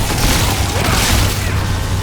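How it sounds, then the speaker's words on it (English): Chained corpse explosions from a Necromancer in Diablo III boom in quick succession, a loud dense wash of low thuds and crackling bursts layered over game ambience. "The corpse explosion chain kind of just pays off by itself."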